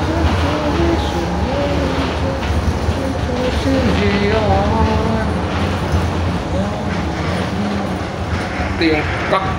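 Light rail train in Parañaque, Manila rumbling along steadily with a continuous low hum and rattling, heard from inside the cabin while people talk over it throughout.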